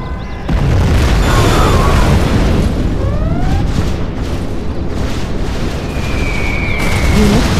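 A nuclear missile detonates in a real-time strategy war game, a sustained roaring boom that rumbles on for several seconds with scattered whistling tones over it.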